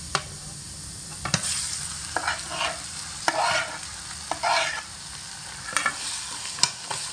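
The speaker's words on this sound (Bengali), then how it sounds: "এই মতো অবস্থায় আমি এর মধ্যে দিয়ে দেব কাঁঠালের আটি বাটা।" Jackfruit seed paste being worked into onion and garlic frying in oil, scraped and stirred with a spatula: a low sizzle under repeated scraping strokes and sharp clinks against the pan.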